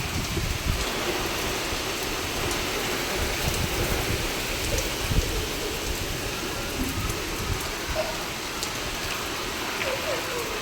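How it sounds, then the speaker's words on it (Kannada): Heavy rain pours down outside a house in a steady, broadband hiss and patter that stays constant and loud throughout, with faint background sounds underneath. "ಮಳೆ ಬರ್ತಾ ಇದೆ ನೋಡಿ."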